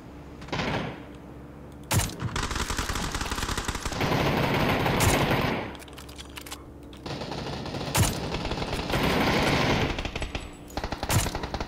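Automatic weapon fire in PUBG on PC rattles out in several long, loud bursts separated by short pauses, with a few sharp single shots, close and dominant with no speech.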